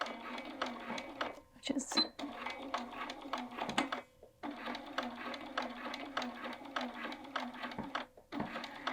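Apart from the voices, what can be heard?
sewing machine stitching a welt pocket on a jacket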